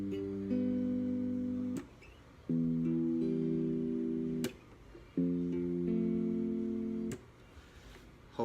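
A guitar plays a song's chord progression, sustained chords strummed in a repeating pattern with brief gaps between changes, fairly soft and close.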